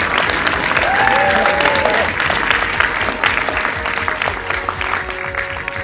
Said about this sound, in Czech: A teď prosím, speciální potlesk